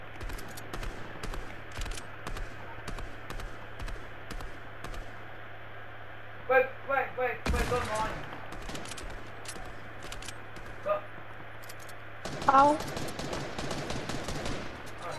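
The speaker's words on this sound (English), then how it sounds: "People shooting me from inside." Video game gunfire crackles throughout: rapid, sharp shots in bursts, some distant and clicky, some louder volleys midway and near the end, with a low steady hum beneath.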